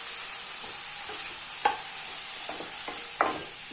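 Sliced tomatoes sauté in a hot pan with a steady, bright sizzle, close and continuous, while a spoon stirs and scrapes against the pan a few times.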